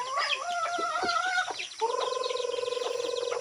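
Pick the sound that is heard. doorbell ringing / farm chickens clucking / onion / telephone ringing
farm chickens clucking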